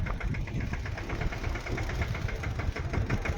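A tractor engine runs at a steady low rumble with a pulsing knock, continuous and close, with no talking over it.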